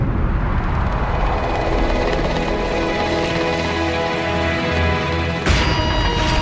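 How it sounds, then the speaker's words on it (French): A Russian helicopter landing near Kazan, its loud, steady rotor and turbine roar filling the scene close by without letup. "L'hélicoptère russe spécialement affrété pour l'occasion se pose aux abords de Kazan."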